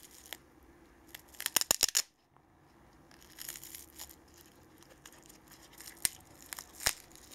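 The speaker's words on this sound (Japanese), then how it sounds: "ベルクロ式と マジックテープになっています。" Hook-and-loop fastener on a flashlight holster for an Olight S1 Baton, pulled open in a quick burst of crackling rips around the second mark, followed by softer scattered tearing and isolated sharp crackles, close and fairly quiet.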